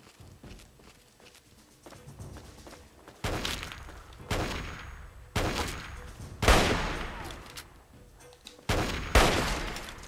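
Gunshots ring out in the video game Fallout 3. A few sharp, loud blasts arrive irregularly over a quieter background, and each one decays quickly.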